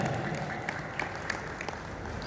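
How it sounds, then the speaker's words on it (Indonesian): Audience applause for a new chairwoman at a KNPI Central Java youth organisation event, a brief dense patter of clapping with a few sharper claps standing out. "berikan tepuk tangan yang meriah untuk ketua yang cantik"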